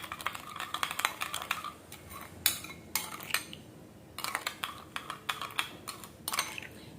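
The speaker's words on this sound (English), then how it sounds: "I'll go ahead and mix it very well." A watery skin treatment made with orange juice and tomato juice being mixed in a small container. It gives quick, close, irregular clicking and tapping strokes in short bursts, with a brief pause partway through.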